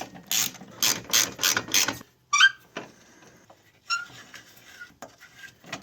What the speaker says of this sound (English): I'm just going to tighten down these bolts, and this thing should be good to go.